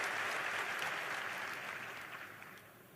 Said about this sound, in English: give your governor a round of applause